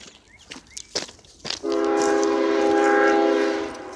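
Several faint clicks and knocks lead into a freight train's loud sustained horn blast, which holds steady for about two seconds before fading slightly.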